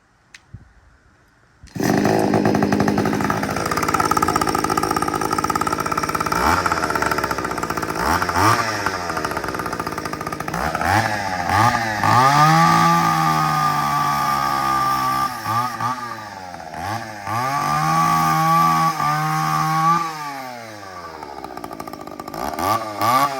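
A Molbico chainsaw, just repaired after excess fuel from the exhaust, starts abruptly and runs loudly, its engine repeatedly revving up and bogging down as it bites into wood, continuing throughout.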